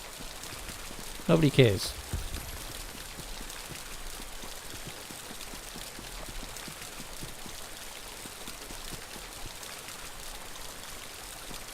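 Steady rain in the video game Kynseed, an even hiss of falling drops heard at a moderate level throughout, with a short spoken remark near the start.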